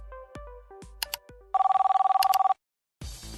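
A studio telephone rings for a viewer call-in on a Korean TV news programme: a few electronic beeps and tones, then one loud continuous trilling ring burst, a short silence, and a line click as the call connects.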